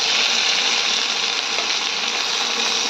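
Mushrooms for a mushroom curry sizzle loudly in a hot pan of oil, a bright, continuous frying hiss held close throughout with no pauses or talk.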